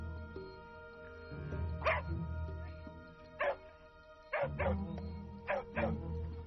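Several dogs bark and yip in short sharp bursts, fairly close, with pauses between them and a low rumble underneath.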